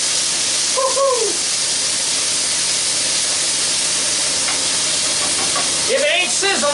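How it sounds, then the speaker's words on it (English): Mushrooms sizzle and steam in a hot wok, a steady broadband hiss running through the whole stretch with faint stirring, no talk over it. "If it ain't sizzling, it ain't cooking, brother."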